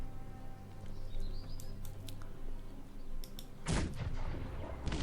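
Cannons bombard enemy positions in the strategy game Cossacks 3, with sharp distant booms and crackling blasts that swell into a loud burst of cannon fire toward the end, over a faint ambient bed with bird-like chirps.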